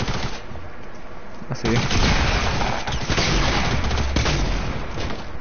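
Bursts of rapid gunfire in the video game Fortnite, loud and close with heavy booming shots coming in clusters, while a player talks over the shooting.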